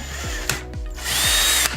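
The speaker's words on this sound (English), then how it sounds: "You will need to drill the hole directly through the tape job." Power drill boring a hole through tape wrapped on a hula hoop, with short bursts of motor whine separated by brief stops and spin-downs, close and loud with no talking.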